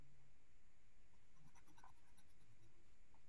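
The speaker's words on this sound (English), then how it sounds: "The pressure of your pencil on the paper, creating these indentations, the sound of it." Pencil lead scratches faintly across paper in a quiet room, a soft continuous scraping with a few light strokes, heard alone.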